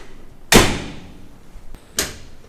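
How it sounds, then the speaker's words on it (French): The rear door of a small vintage van is worked with a sharp, loud metallic clunk and then a second, softer latch knock, both close and with no talk. "Regardez le truc sympa, c'est la porte derrière."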